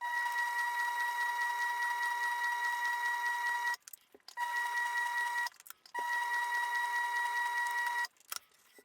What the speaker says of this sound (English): Sew the left and bottom edge.